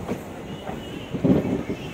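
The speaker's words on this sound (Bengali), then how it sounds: "পুরী স্টেশনে ট্রেন ঢুকে গেছে।" A special train pulling into Puri station, with a low rumbling of rail cars and wheels that swells toward the end, mixed with faint background voices.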